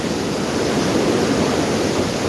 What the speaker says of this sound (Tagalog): narinig nyo guys ang hangin, parang dambuhalang buhawi. Pero umuugong guys.